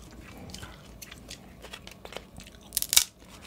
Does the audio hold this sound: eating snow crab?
yes